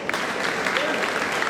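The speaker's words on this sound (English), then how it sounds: "In your thunderous applause" Audience applause greets a chief guest stepping onstage at an art festival opening ceremony, a steady loud wash of many hands clapping, with a faint voice underneath.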